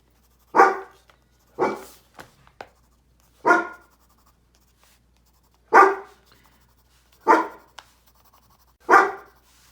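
A dog barks indoors, sending out about six single barks spaced a second or more apart, fairly close and loud against a quiet room, with small scratching sounds between them.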